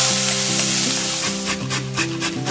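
Baby corn and peas sizzle steadily in butter and oil in a pan while being stirred, with a few scraping strokes of the spoon toward the end, close and loud with no talking.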